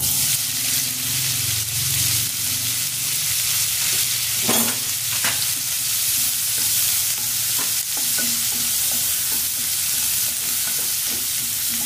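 Cumin, chopped onions and green chillies fry in a little oil for a tomato egg curry, sizzling steadily up close while a spoon stirs and scrapes the pan with occasional clacks.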